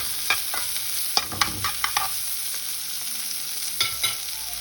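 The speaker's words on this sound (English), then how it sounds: "So let me go grab the eggs and just start throwing them in there." Eggs go into a hot pan for Haitian-style eggs, giving a steady high sizzle with scattered sharp clicks and scrapes of stirring, close and fairly loud, with no talking.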